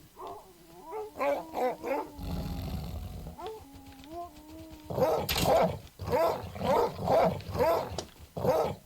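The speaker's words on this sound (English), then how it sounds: "Those wolves are still here." Wolves in the survival video game Rust snarling and growling in rhythmic, guttural bursts, with a drawn-out throaty rumble midway and then a loud, close run of repeated growls.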